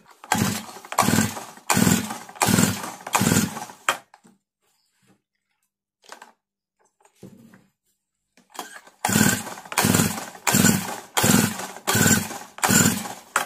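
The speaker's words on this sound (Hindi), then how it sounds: "चलिए एक बार फिर से मशीन को स्टार्ट करके देखते हैं" Petrol-powered earth auger engine being pull-started: several loud rhythmic bursts of sputtering engine sound, a stretch of near silence with faint handling noises, then another run of repeated loud start attempts, close to the microphone.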